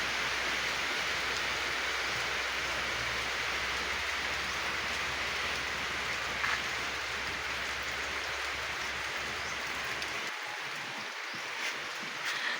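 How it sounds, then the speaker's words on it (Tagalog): Steady, dense hiss of rain falling, constant throughout, with no voices. "may sikat ng araw na umuulan"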